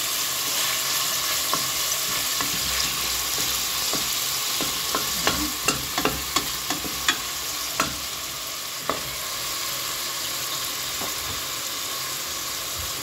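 Onions sauté in a pan as the first step of a lentil and carrot dish, giving a steady soft sizzle broken by clicks and scrapes from stirring.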